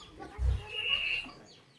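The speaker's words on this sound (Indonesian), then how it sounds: "Aku banyak sekali ya pelihara ayam, ayam kampung teman-teman." Village chickens at a farm give a faint low cluck and a brief higher squawk, close but quiet against soft outdoor background noise.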